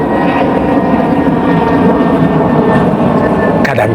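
A loud, steady aircraft roar from a plane flying over an outdoor gathering persists throughout, with a brief clatter near the end.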